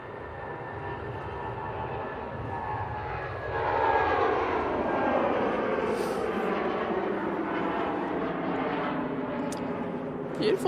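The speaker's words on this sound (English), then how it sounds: "Beautiful departure there from the 319." A Eurowings Airbus A319 departs Manchester Airport for Stuttgart, its engine roar rising after a few seconds into a sustained whine with a sweeping tone, heard at moderate distance with some talk underneath.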